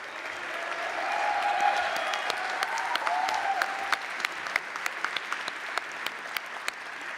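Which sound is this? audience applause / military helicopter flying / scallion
audience applause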